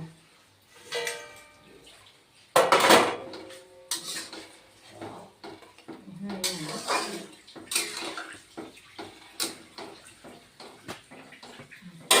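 Fish go into a pan of hot oil for a Bengali koi fish dish, giving sudden loud sizzling bursts and clattering pan noises. A voice speaks intermittently over the frying.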